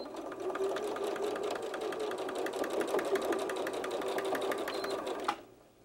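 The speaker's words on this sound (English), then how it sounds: "now I'm going to take this over to my sewing machine" A sewing machine stitches fabric for a coin purse, running steadily for about five seconds with a rapid mechanical stitching rhythm, then stops abruptly, leaving quiet room tone.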